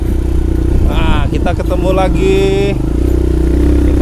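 Motorcycle with a racing exhaust rumbles steadily and close throughout, a continuous low engine drone under people talking, on a ride through steep hillside roads around Pagar Dewa, Lampung.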